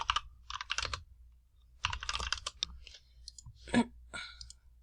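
Rapid keystrokes clatter on a computer keyboard in quick bursts separated by short pauses, close to the microphone and heard alone.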